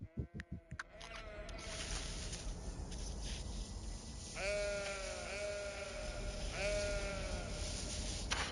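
Sheep bleat in the city-building game Cities Skylines Remastered on PS5, two wavering bleats rising over a steady wash of ambient game noise after some faint tapping at the start.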